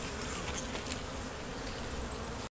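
Honey bees buzzing steadily at a hive in early spring, a dense continuous drone of many wings close to the microphone with no voices.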